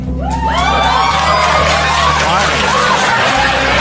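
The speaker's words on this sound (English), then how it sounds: "Why would you cheer that?" Studio audience cheering and whooping, a loud sustained crowd roar with scattered shouts and laughter over a talk-show stage.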